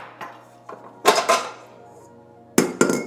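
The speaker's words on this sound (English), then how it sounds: "you're gonna wanna grab your whisk attachment" A metal whisk attachment being picked up and fitted onto a stand mixer, a few sharp metallic clinks and clanks in two short clusters, close and otherwise quiet.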